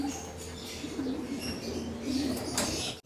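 Pigeons coo continuously in a loft colony, with low, rolling calls close to the microphone, plus scattered chirps and a flutter of wings in the background.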